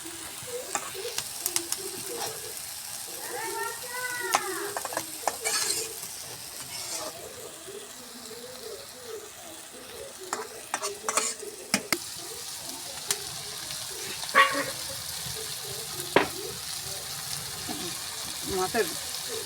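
Small puti fish fry in oil in a pan, a crackling sizzle broken by scraping and stirring strokes and sharp spatter pops, with soft voices and faint chirps in the background.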